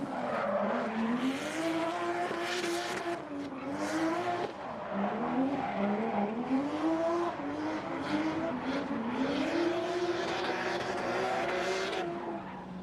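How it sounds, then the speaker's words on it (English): A 600 hp 2JZ-engined drift car skids past with a loud, rasping exhaust, the engine note rising and falling in repeated sweeps over continuous tire squeal, steady and close throughout. "2J 600 horse drifting with a good exhaust too"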